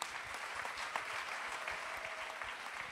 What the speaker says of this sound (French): on peut applaudir Romain Biolchini